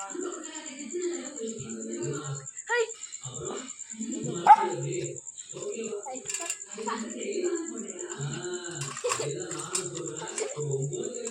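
A dog gives a few short barks and yips near a curry bowl amid close talking and household clatter, with a faint high electronic whine throughout.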